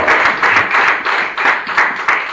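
A church congregation applauding, steady loud clapping from many hands filling the room in a continuous rhythmic wash, with no talking over it.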